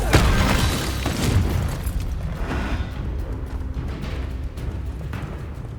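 A Confringo blast spell goes off in Hogwarts Legacy, a loud booming burst at the start that rolls into a sustained rumbling wash of game noise with smaller pops trailing after.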